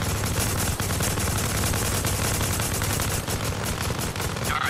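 Rifles fire on a firing range in Arma Reforger, with several shooters overlapping into a dense, continuous, loud barrage of rapid shots and no pauses.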